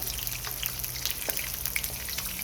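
Light, crackling sizzle of capsicum frying in a pan for chilli paneer, with scattered pops and spits over a continuous hiss and no talking.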